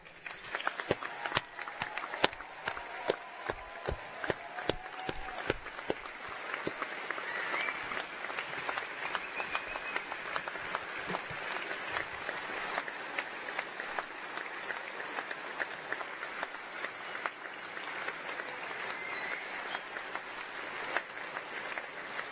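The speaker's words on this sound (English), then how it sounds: "Please can I ask you to join me in a round of applause for them all." Graduation ceremony audience for a School of Computing, Science and Engineering gives a sustained round of applause for its graduates, with a brief burst of sharper individual claps at the start settling into steady, dense clapping that fills the hall.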